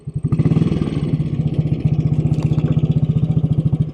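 1957 Royal Enfield Bullet 500 single-cylinder motorcycle in excellent condition, engine running in first gear on the road, a loud, close, steady thumping exhaust beat with even rapid pulses throughout.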